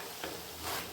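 Okra and tamarind pieces being sautéed in a pan give a quiet, close sizzle with a couple of soft stirring scrapes.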